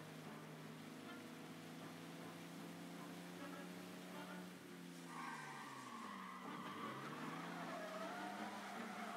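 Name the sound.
car driving in video game Mafia Definitive Edition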